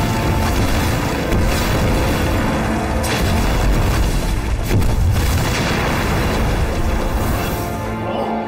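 A heavy explosion rumbles through a war drama scene set during the fall of Shenyang, a sustained low booming roar with further blasts rolling in around the middle, loud and dense with no talk.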